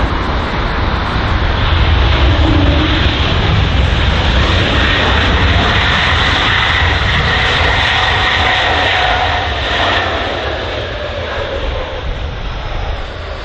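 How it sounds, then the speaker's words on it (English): A Swiss Airbus A220 at London Heathrow, its engines producing a loud, steady roar with broadband rumble that swells and then eases slightly as it passes nearby. "this aircraft just in front of us now is the Swiss A220"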